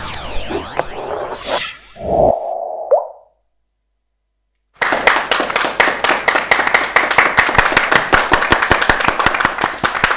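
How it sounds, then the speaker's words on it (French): Steady rhythmic clapping from a small group on a French talk show, a quick series of sharp claps, close and fairly loud, following a brief whoosh and pop and a short silence. "J'applaudis pour vous"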